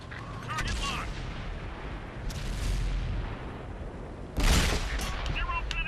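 Tank cannon fire in World of Tanks, an M51 Super Sherman battle on console: a sharp booming shot near the start, another near the end, with low rumbling battle noise between and a voice talking throughout.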